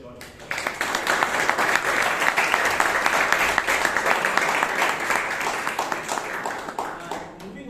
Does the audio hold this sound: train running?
no